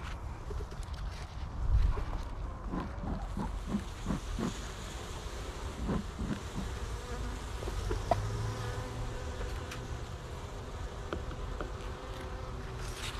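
A low, steady buzz of many honeybees humming together close by at the hive, continuous and fairly quiet with no talking.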